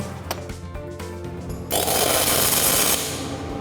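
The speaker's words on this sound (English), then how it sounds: "So that's just the tack weld to hold that one side." Tack welding metal pieces: after some clicking and handling, a burst of harsh, crackling arc sizzle lasts about a second, loud and close, then fades to background hiss.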